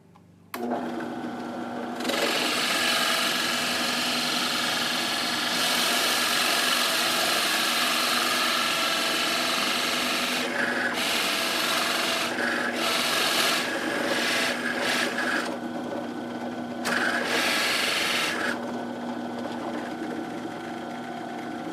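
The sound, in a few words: drill boring into wood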